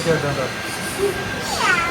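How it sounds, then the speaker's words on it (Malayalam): A Bengal cat at a pet shop in Kannur gives a few short meows amid busy background noise and nearby voices, the calls moderately close but partly masked. "അതാണ് ബംഗാൾ ക്യാറ്റ്"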